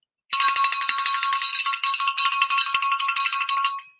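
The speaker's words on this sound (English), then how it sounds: "She's going to ring the bell, ring the cowbell" A cowbell rung rapidly and steadily for about three and a half seconds, loud and close, with no voices, stopping abruptly.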